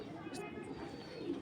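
A pair of BRPFC club racing pigeons coo softly and low, faint beneath someone talking nearby.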